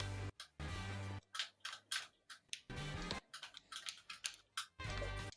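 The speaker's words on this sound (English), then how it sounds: "Hit the keys more furiously. I think you guys can hear it in my mic." A computer keyboard hammered furiously during a SpeedRunners game, with fast bursts of clattering keys broken by sharp single clicks, fairly quiet and close, with no talk.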